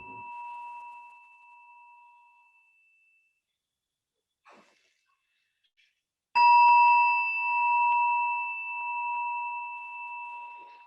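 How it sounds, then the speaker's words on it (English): A bell rings with a clear sustained tone that slowly fades to silence, then after a brief pause it is struck again, louder, and rings out long. "And now let us listen to the sound of this bell."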